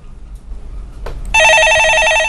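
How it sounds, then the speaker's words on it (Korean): An electronic telephone ring cuts in loudly in a Korean stock-market call-in radio show, a bright trilling tone that continues steadily after a brief rustle and faint background hum. "예, 전화 받아보겠습니다."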